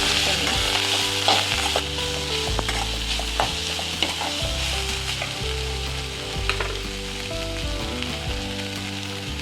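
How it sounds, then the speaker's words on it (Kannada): Mint leaves and spices fry in a pan for village-style chicken saambar, a steady close sizzle with scraping stir strokes repeating throughout, fairly quiet and with no talking. "ಪುದೀನ ಸೊಪ್ಪು ಹಾಕೊತೀನಿ, ಎಲ್ಲನೂ ಫ್ರೈ ಮಾಡ್ಕೊತಾ ಇದ್ದೀನಿ"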